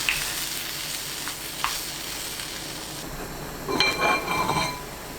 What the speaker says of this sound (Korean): 다시마 우린물 600ml, 애호박, 양파, 고춧가루 한 큰술 넣고 끓입니다